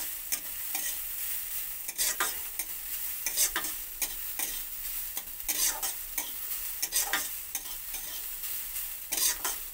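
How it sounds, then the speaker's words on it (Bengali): Grated carrot fries with chopped onion, ginger and garlic in a pan, a continuous sizzle punctuated by regular scraping spatula strokes close up, with no talking. "গাজরটাকে পেঁয়াজ কুচি, আদা রসুন কুচির সঙ্গে ভালো করে ভেজে নেব।"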